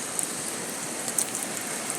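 Rain falls on a wet road on a rainy day in Trinidad, a steady close hiss of spray and drops with a few faint splashes, no voices.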